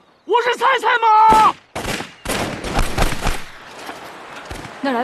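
Bursts of gunfire in a war film battle scene, a rattle of shots following shouting voices, then continuing as a fainter, sustained volley.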